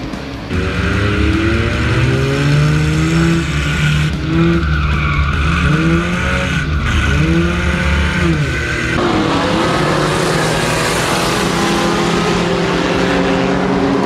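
Race cars roar around a track on a green-flag restart, engines sweeping up and down in pitch as they pass close by, loud and sustained, with tire squeal and skidding mixed into the rising and falling drone.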